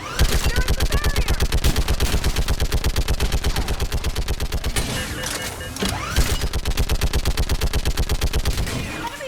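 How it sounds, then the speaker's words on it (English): Rapid, continuous automatic gunfire from Mass Effect 3 during the Thessia battle, loud and relentless with a brief thinning near the middle before the dense volleys resume. "hold them back! More on the way! Keep firing!"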